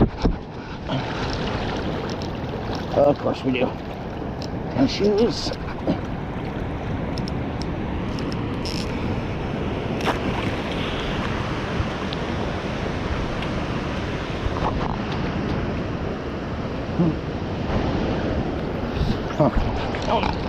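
Ocean surf rushes in over a northwest Oregon beach during razor clam digging. There is a steady wash of water and wind buffeting the microphone, with people talking over it.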